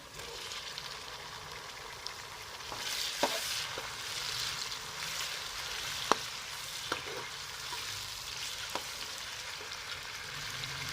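Tomatoes fry in a pot for chicken pulao, with a steady sizzle overlaid by several sharp clinks and stirring knocks at irregular moments, close and moderate.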